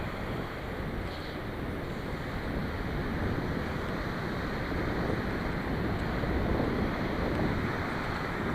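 Surf washes steadily onto a beach, a continuous broad roar of waves with wind buffeting the microphone, no voices present.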